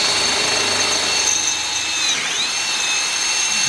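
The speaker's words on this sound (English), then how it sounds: "So I ended up using the big drill bit" A big drill bit bores a hole in a car on a twin-supercharged Ultra4 IFS build. A loud, steady high-pitched whine holds throughout, with a brief dip in pitch partway through.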